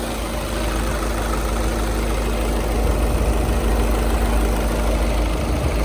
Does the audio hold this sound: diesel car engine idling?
yes